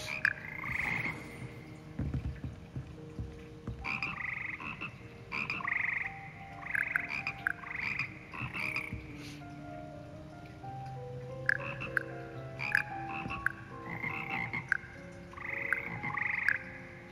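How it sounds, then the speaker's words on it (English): A frog choir in Hogwarts Legacy croaks in tuned, rhythmic phrases, giving repeated bursts of nasal, pitched croaks that form a clear melody, close and moderately loud, with no talking. "Frog choir."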